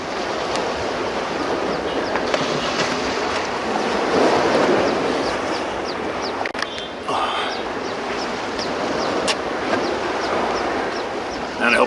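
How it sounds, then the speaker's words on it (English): Ocean waves washing onto the shore during a storm, a continuous broadband roar of surf with gusting wind buffeting the microphone, loud and close throughout with no clear breaks. "I hope this ocean isn't too loud."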